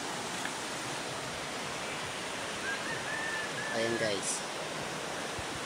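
Clear mountain water streams steadily past in Buhi, Camarines Sur, as a constant loud rushing wash, while someone speaks briefly over the flow.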